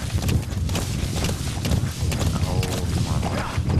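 A horse in the Metal Gear Solid V video game walks along with close, steady clip-clopping hooves that run through the whole stretch.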